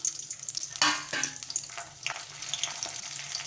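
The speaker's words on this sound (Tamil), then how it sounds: "ஒரு பட்டை, கொஞ்சோண்டு சோம்பு, கருவேப்பிலை மூணுத்தையும் சேர்த்து தாளிச்சிடலாம்." Cinnamon stick, fennel seeds and curry leaves crackle and sizzle in hot oil, with sharp pops early on settling into a steady close-up frying hiss.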